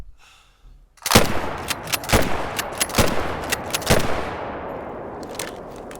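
A rifle fires repeatedly in theHunter Call of the Wild, sharp loud shots spaced about a second apart, each ringing out with a metallic echo tail that fades after the last round.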